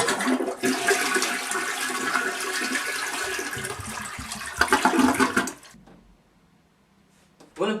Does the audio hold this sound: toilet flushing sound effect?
yes